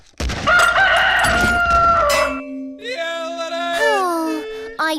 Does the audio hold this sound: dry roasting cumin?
no